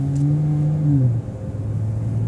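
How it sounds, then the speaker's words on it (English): The engine of a 2014 Dodge Challenger hums loudly and steadily from inside the car, then drops suddenly to a lower, rougher idle rumble. "Listen to that engine."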